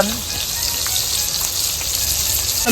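Fresh fish frying on a tawa, a loud steady sizzle heard close up, with no talking.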